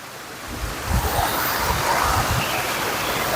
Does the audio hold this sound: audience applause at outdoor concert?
no